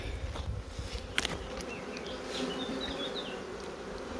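Honey bees buzz around a production hive during a colony inspection, a dense, steady drone with close individual bees whizzing past, no talking.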